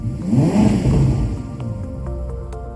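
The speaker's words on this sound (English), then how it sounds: "This connection starts as soon as you sit in the car and start the engine." Ferrari SF90 engine starting and revving, a loud, full-bodied roar that swells early and then settles into a steadier, slightly softer drone over the last second, with no voices.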